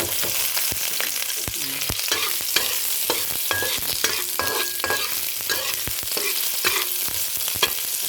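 Garlic fries in a pan, sizzling loudly and steadily up close, while a utensil scrapes and clatters against the pan in frequent sharp stirring strokes; no voices.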